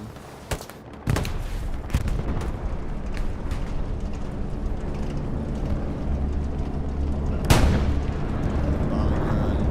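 Bombing run explosions in the World War II shooter Hell Let Loose on the Purple Heart Lane map, a dense rumbling barrage of booms with sharp blasts near the start and one big loud blast late, continuous heavy low roar throughout.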